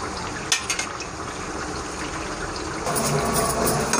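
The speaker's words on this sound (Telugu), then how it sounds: "ఉడుకుతుంది మంచిగా ఉడుకుతుంది చక్కగా." Chicken pickle bubbling in a pot, heard as a steady close simmering hiss with a few soft clinks early on, growing louder and fuller near the end, with no talk.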